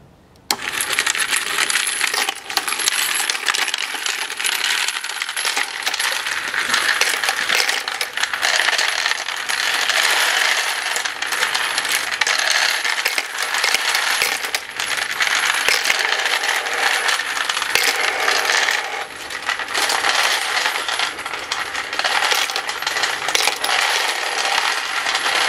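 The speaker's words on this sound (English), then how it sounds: "you can watch how it turns and sorts the brass out" A brass case sorter machine turns and sorts spent brass cartridge cases, giving a steady, loud, dense metallic clatter and jingle of tumbling casings that runs unbroken throughout with no voices.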